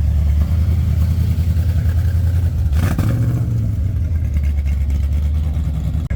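A Chevrolet Corvette engine rumbles loudly nearby at a cars and coffee meet, a deep steady growl with a sharp rev burst near the middle that fades back to a throaty idle.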